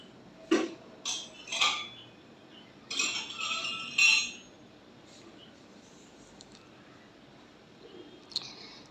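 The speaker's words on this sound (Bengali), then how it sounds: "একটু নাড়াচাড়া করে নিলাম" A utensil scrapes and clinks against a pan while soybean curry is stirred, a few short metallic bursts close by in the first half, then quieter with only faint taps and no talking.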